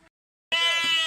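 Two sheep bleat loud and close in a farm setting, one long wavering bleat sounding alone right after a brief moment of silence.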